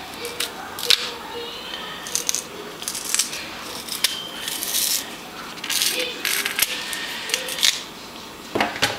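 Plantains being sliced with a knife on a kitchen surface, a run of short close cutting and scraping clicks spread across the stretch, with faint household commotion behind.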